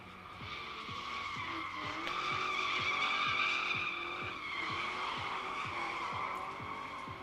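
A Ford Mustang GT drifting at a drift test-and-tune day, its tires squealing in a long sustained screech over a rough engine drone with rapid rhythmic pulsing, loud and fairly close, no talking.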